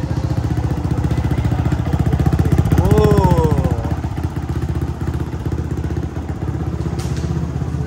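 A race motorcycle engine runs steadily nearby with a loud, rapid, rhythmic thrum, while a voice briefly calls out partway through.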